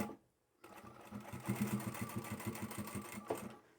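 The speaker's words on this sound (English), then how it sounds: "I will top stitch this one as well" A sewing machine top-stitches fabric on a small glasses pouch, starting after a brief silence and running in a steady, close, rapid mechanical chatter for about three seconds before easing off.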